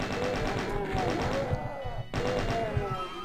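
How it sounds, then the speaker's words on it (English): Gunfire from enemies being gunned down in the MS-DOS game Doom 2, on the Refueling Base map: a few dull shots and thuds mixed into a steady, loud bed of game music and noise. "Just gonna gun down all the enemies here."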